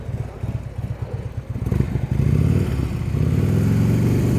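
A motorcycle creeps along at slow speed during an advanced low-speed riding practice session, its engine chugging in a steady putter, then swelling into a smoother, louder drone as the clutch is let out, heard up close.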